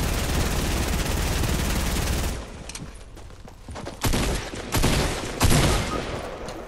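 Rapid automatic gunfire from Fortnite, a dense continuous burst that cuts off, then several sharp separate shots and short bursts ring out loud and close.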